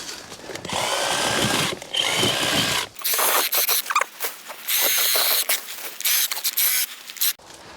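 A cordless Makita DUH506 hedge trimmer chatters loudly and close up as its blades snap through brambles, in bursts of rapid cutting separated by brief pauses.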